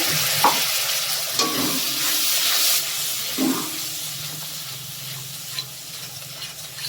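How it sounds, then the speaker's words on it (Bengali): Spice paste with a little water and salt frying and being stirred in a pan, a close steady hiss and sizzle broken by a few scraping strokes of the spatula. "অল্প একটু জল দিয়ে মশলাটা কষিয়ে নেব।"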